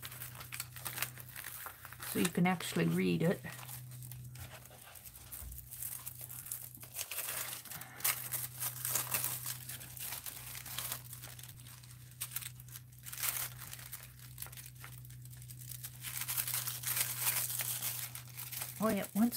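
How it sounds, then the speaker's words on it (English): A foil sheet is crinkled and shifted over acetate, producing soft, continuous rustling and crackling close by under a person talking. "let me move this foil up a little"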